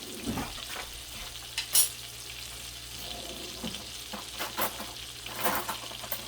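Shrimp hitting a hot pan for shrimp fettuccine Alfredo, with a soft steady sizzle, occasional spoon scrapes and clinks against the pan, and a few louder bursts of frying spatter.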